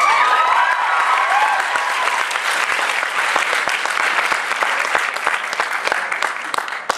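An audience at an author panel claps loudly and continuously, a dense patter of many hands with a few faint cheers mixed in early on.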